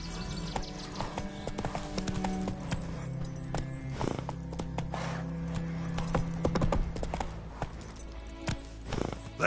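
Roach, the horse in The Witcher 3, trots along in a steady, close clip-clop of hooves, with a low ambient hum beneath the rhythmic hoofbeats.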